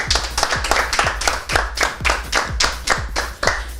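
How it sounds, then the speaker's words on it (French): An audience at a televised make-up competition claps for a contestant in a steady, rhythmic beat of distinct hand claps, fairly close and loud, with no speech over it. "On applaudit encore pour elle."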